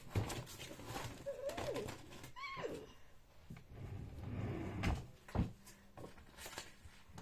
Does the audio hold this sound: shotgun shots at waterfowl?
no